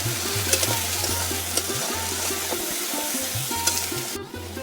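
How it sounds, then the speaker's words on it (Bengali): Spices with turmeric and salt are stir-fried in hot oil for a village-style taro leaf curry, a steady sizzle with scraping stirring strokes and a low hum beneath, fairly close and continuous. "লবণটাও দিয়ে দেবো একবারে। ভালো করে কষিয়ে নেব।"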